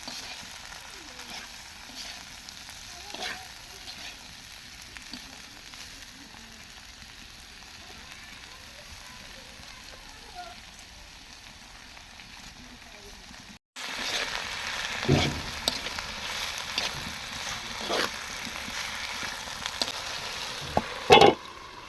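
Bitter gourd and small potatoes fry in an oil-filled pan with a soft steady sizzle. Stirring and scraping come in occasional bursts, and the sizzle grows louder partway through.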